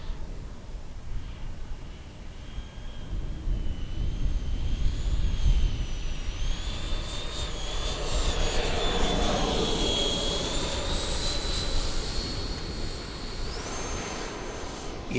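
An FMS Super Scorpion V2 90mm EDF model jet flies overhead in windy conditions with a continuous loud whine of the ducted fan that rises and shifts in pitch as it passes, over steady wind rumble.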